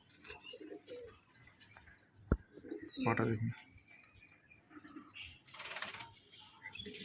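Pigeons kept by a breeder, old-lineage birds, give soft coos and chirps with a brief burst of wing flapping, faint and close, while someone talks over them.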